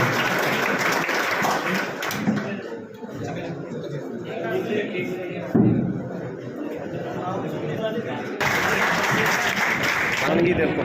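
Enthusiastic crowd clapping welcomes a guest at a coaching-class function, heavy applause at the start that fades under voices and chatter, then swells again loudly near the end.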